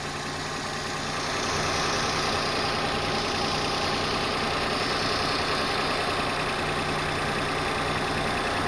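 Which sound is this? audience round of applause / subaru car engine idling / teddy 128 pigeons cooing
subaru car engine idling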